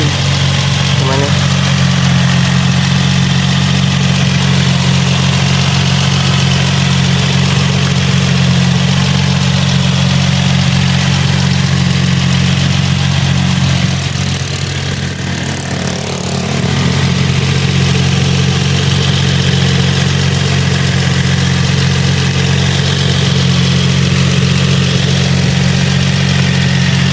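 A car engine idles steadily at close range, a loud, even low hum with a constant throb that holds for the whole stretch and dips only briefly partway through. The car has about 133,000 on the meter.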